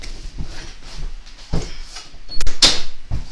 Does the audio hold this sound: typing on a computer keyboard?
no